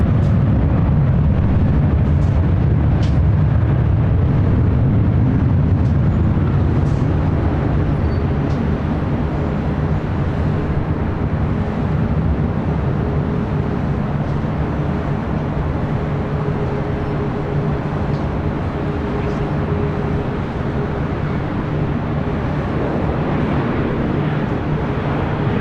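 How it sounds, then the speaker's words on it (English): An airliner bound for Las Vegas takes off down runway 24 left at LAX, heard as a loud, constant, deep jet roar and rumble lasting the whole stretch, with a faint hum over it and no voices. "the flight heading to Las Vegas, now rolling down 24 left"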